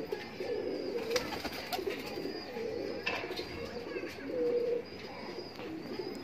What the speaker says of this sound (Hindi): एक ये कबूतर है टैडी